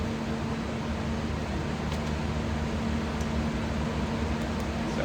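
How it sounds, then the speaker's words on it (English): Greenhouse exhaust fan running, a steady whirring hum with a constant low tone and airy broadband noise, even and unbroken, with a few faint clicks. "That's my exhaust fan coming on."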